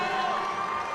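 Crowd at the Powerlifting America 2025 Nationals powerlifting meet cheering as lifter Rondel Hunte comes out, a sustained, loud roar of voices with a steady high-pitched whistle-like tone running through it.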